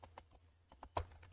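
Quick, uneven keystrokes on a computer keyboard while Python code is entered, a handful of soft clicks with one sharper tap near the end, close and fairly quiet with no talking.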